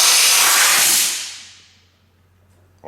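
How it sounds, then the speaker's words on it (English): Compressed air blasts under a stock handlebar grip on a Yamaha FZ-09 motorcycle, giving a loud, steady broadband hiss for about a second that fades out, followed by a brief faint knock at the end. "Compressed air."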